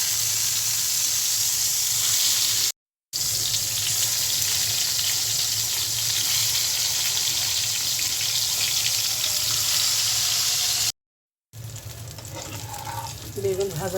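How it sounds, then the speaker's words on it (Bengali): Eggplant slices frying in oil in a frying pan give a dense, continuous hiss and sizzle, close and fairly loud, briefly cut off twice, with faint stirring and other kitchen noise near the end. "বেগুন ভাজার জন্য ফ্রাই প্যানে তেল দিয়ে দিচ্ছি।"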